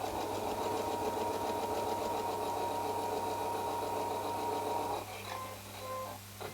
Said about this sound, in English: sew down on those lines.